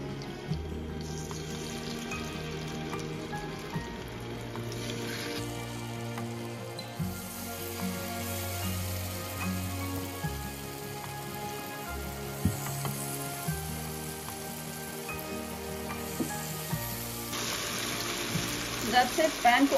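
Lamb or mutton chops are added one by one to hot olive oil in a pan over medium heat, giving a continuous loud sizzle and crackle that swells as more pieces go in.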